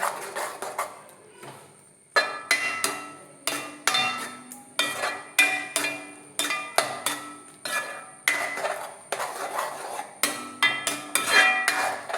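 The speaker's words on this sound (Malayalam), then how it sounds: "നന്നായിട്ട് ഇളക്കി യോജിപ്പിക്കും" Tomato pulissery curry, Kerala style, stirred in a pot with a spoon, giving a steady run of sharp clinks and scrapes against the metal, close and fairly loud, with no talk.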